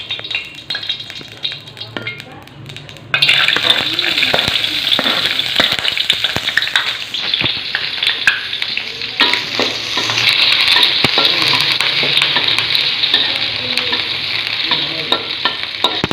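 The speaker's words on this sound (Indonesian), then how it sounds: "Setelah minyaknya panas, masukkan bawang putih, bawang merah yang sudah diiris" Thinly sliced garlic and shallots dropped into hot oil and stirred: a loud, steady sizzle that jumps up sharply once they hit the pan, with scraping stirs and occasional utensil clinks, close and without talk.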